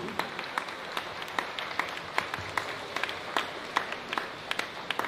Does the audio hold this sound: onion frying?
no